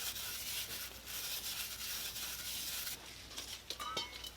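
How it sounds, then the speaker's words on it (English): A brass brush scrubs a crank mating surface clean while servicing an Adlerspeed twin-disc clutch, giving a steady close bristly rubbing that runs throughout, with a few sharper scrapes near the end. "Use a brass brush."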